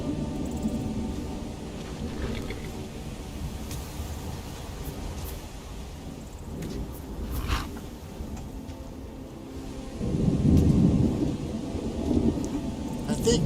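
Thunderstorm ambience in the Skyrim game, modded with Scandinavian Seasons weather, with steady rain and low rolling thunder that swells louder near the end, faint speech-like sounds in the background.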